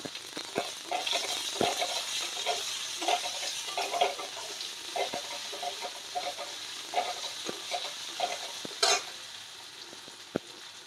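Chopped green chili and ginger fry in a pan for a fish chili dish, giving a steady, fairly soft sizzle broken by scattered scraping clicks of stirring.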